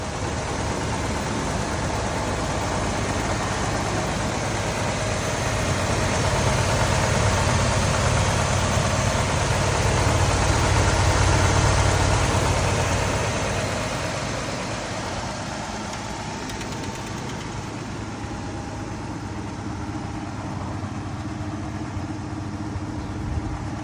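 A 1986 Ford F150 truck engine idles steadily and alone, a continuous low rumble that swells slightly in the middle before settling back to an even run.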